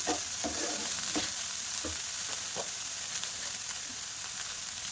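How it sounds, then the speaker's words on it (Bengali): Spiced chicken filling is stirred in a frying pan: a continuous close sizzle with soft scraping and clinking spatula strokes at irregular intervals, no talking. "দিয়ে ভালো করে নাড়াচাড়া করে নেব"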